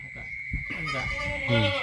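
A goat bleats on a livestock farm, a short wavering cry that swells toward the end and sits over a steady background hum.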